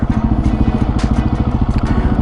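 A Supermoto 701 single-cylinder motorcycle engine thumps in a steady, pulsing low rhythm during wheelie practice, close and fairly loud, with faint clatter on top.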